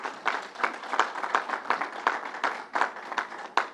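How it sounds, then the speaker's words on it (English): A briefing crowd at Belmont Racetrack claps for Northwell, steady applause from a modest group with sharp individual claps standing out, close and fairly loud throughout. "Let's give Northwell a round of applause."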